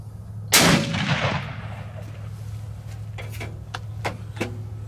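Single loud shot from a Ruger Precision rifle in 6mm at an outdoor range, a sharp crack with a rumbling echo tail, followed by faint distant clicks and pops.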